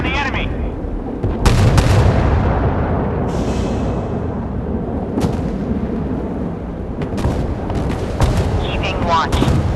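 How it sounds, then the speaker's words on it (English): Repeated heavy booms of warship artillery in the naval combat game Force of Warships, several sharp blasts spread across the stretch over a dense rumbling battle backdrop, with radio-style crew voices in the mix. "Ready to open fire on the enemy."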